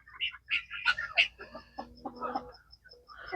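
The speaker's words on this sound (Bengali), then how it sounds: "রাতের মধ্যে আমাদের সকল মুরগি সুন্দর সারিবদ্ধভাবে" Chickens on a farm cluck softly at night in short, scattered bursts, fairly faint and close, with no talk.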